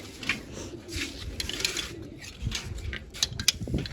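Pigeons from a flock of about fifty or sixty kept birds coo softly and repeatedly, with rustling and faint bursts of activity around them and no talking.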